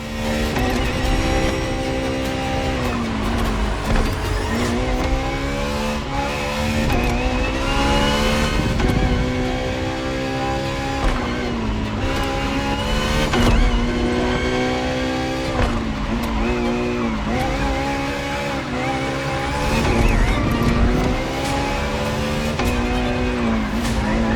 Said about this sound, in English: More than a car, the FXXK is an experiment for its makers and an experience for its drivers.